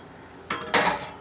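A metal cake-baking pan is handled indoors, giving two short clattering knocks about a quarter second apart, the second louder, against a quiet background.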